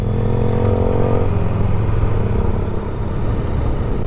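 A 2022 Honda Grom motorcycle rides along close by, its small engine droning loudly and steadily, with the pitch shifting as gears change partway through.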